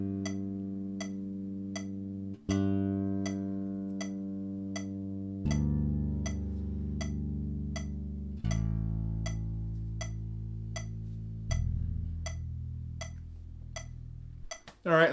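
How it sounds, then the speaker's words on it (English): Bass guitar sustained whole notes at 80 bpm, one measure per string moving from E up to G and back, each low note ringing out for a full bar against a steady, faint clicking count. "Whole notes at 80."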